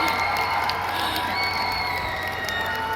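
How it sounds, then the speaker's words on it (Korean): A festival crowd at a film screening stage greeting with the director and an actress, cheering and clapping in a dense steady roar with high shouts on top, loud and continuous. "여러분 큰 박수 부탁드립니다."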